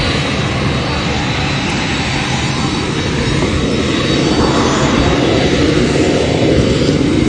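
A private jet's aircraft engine runs loud and steady, a constant roaring whine filling the whole stretch while voices talk over it.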